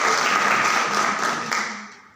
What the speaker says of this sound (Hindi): उनके लिए भी भरपूर तालियां होनी चाहिए